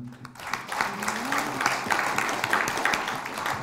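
An audience at a Korean political lecture event applauds, a steady, dense wash of clapping that swells and holds for several seconds, with a voice briefly audible at the start.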